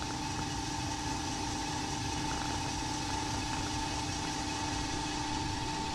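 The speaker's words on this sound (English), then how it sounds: "That stirrer is down nice and deep." A stirrer machine runs steadily with its engine, a continuous mid-pitched drone with a fixed tonal hum holding constant and loud throughout, no voices.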